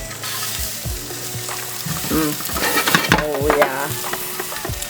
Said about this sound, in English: we're gonna render out some of that beef fat